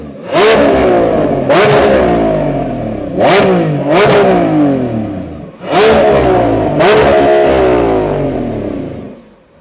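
A warm V12 engine in a 2025 Lamborghini Revuelto revs hard again and again, four or five loud bursts that climb in pitch and fall back, with a throaty, crackling edge between pulls.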